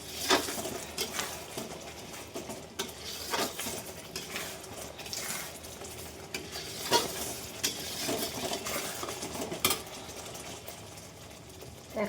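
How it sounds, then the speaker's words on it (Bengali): Spices frying in oil in a pan, a soft sizzle broken by intermittent clinks and scrapes of a spoon stirring against the pan, fairly quiet and close, with no talk. "মশলা একটু ভাজা ভাজা হলে আমি এর ভিতরে টক দইটা দেবো।"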